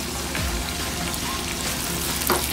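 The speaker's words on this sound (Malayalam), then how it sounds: "അതിനുശേഷം നമുക്ക് വെളുത്തുള്ളി ഇടാം." Chopped garlic sizzles and crackles steadily in hot oil in a pan for a Kerala-style fish masala gravy, with a brief stirring scrape partway through.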